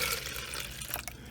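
Water being gently scooped with a reused plastic coffee cup from a jar holding salamander larvae, a soft close-up liquid splash and trickle lasting about a second, with no talking.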